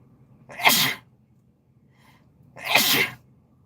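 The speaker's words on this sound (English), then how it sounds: "I gotta sneeze." A person sneezes outdoors twice, two sharp bursts about two seconds apart, close and loud against a quiet background.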